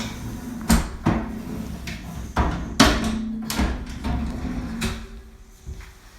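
Kitchen drawers in a townhouse kitchen are opened and shut again and again, giving a string of close, sharp wooden knocks and slides at an uneven pace.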